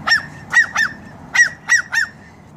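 A pet Timneh grey parrot or cockatoo perched in a tree gives six loud, harsh squawks close by, in two quick groups of three, with no talking.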